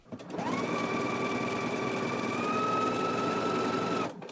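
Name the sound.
sewing machine zigzag stitching a knit dress neckband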